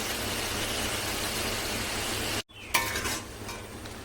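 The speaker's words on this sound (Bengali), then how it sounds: "ডিমগুলো দিয়ে দিয়েছি, একটু ফুটবে, তারপরে নামাবো" Eggs simmer in a fried masala curry with a loud, close, even sizzle that cuts out briefly, then resumes with a few sharp clinks of a spoon against the pot.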